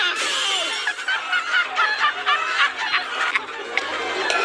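Chickens clucking and chattering close by in a busy, irregular mix of short calls, with voices faintly mixed in.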